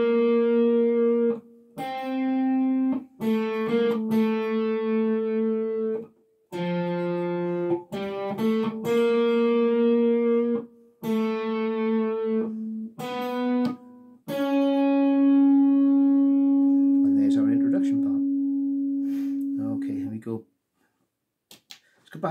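An electric guitar with light distortion plays a riff, a run of sustained notes in separate phrases with short gaps, ending in a long held note that fades before silence.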